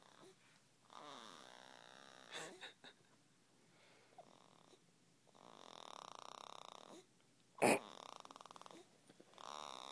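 A young girl snores softly in bursts, with breathy rasping inhales and pauses between, near the microphone; an adult speaks briefly and a sharp knock or click cuts in near the end.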